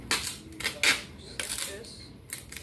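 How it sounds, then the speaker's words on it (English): Duct tape pulled and wrapped around a foam pool noodle, heard as several short ripping and crackling bursts, close and fairly quiet. "And then wrap tape around,"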